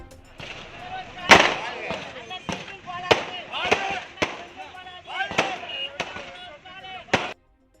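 Firecrackers bursting at a street celebration after an election win in Tamil Nadu: a string of sharp, loud cracks at irregular intervals over about seven seconds, with crowd noise and voices underneath.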